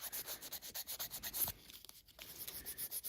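Amiga 2000 battery contacts rubbed with fine 1200 grit sandpaper, a faint, rapid back-and-forth scratching in quick even strokes.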